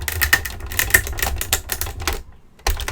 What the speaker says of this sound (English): I'm going to run it through the machine